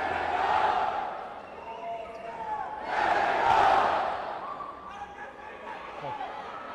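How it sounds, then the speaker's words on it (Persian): Spectators of Mehregan Noor cheer at an Iranian men's Premier League volleyball match. A loud indoor crowd roar swells twice and stays sustained throughout. "تشویق‌های تماشاگران مهرگان"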